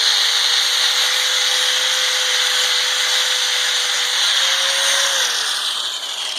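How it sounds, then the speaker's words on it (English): A grinder fitted with a flap wheel scours rust off the rear brake hub of a Ford Super Duty F250 4x4, giving a loud, steady abrasive whine that holds close and continuous, with the pitch dipping slightly near the end. "I'll use a flapper wheel and get around there and get it cleaned"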